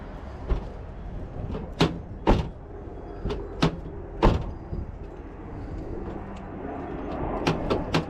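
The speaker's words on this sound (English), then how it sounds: "Do I dare try to close the door?" The driver's door of a 2009 Honda Fit with a faulty door lock actuator is worked, giving a series of sharp knocks, clunks and latch clicks spread across several seconds, close and moderately loud.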